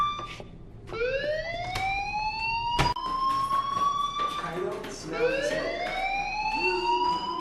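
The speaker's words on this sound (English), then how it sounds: "Hey, do you hear that fire alarm?" A fire alarm in the video game Life Is Strange sounds as a rising, wailing electronic siren, its sweeps climbing again and again and running loud and continuous throughout, with a sharp bang near the middle.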